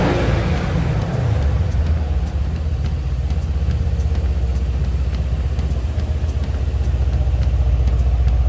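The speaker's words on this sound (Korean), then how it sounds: "배기음 들어보실게요." Mercedes C63S AMG coupe exhaust note, a steady deep rumble of the engine running continuously, loud and close throughout.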